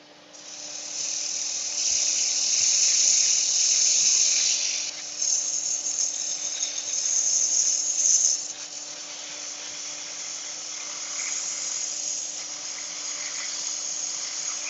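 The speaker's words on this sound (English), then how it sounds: "Don't want to spend all my whole afternoon sanding." A high, whining power sander runs continuously on a lacewood bowl, its pitch and loudness dipping briefly a few times as it works against the surface.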